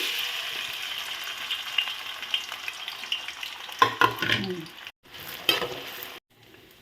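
Onions and green chillies fry in hot oil in a pot, a close, busy sizzle with sharp stirring scrapes and clatters in the later part, then a brief drop-out near the end.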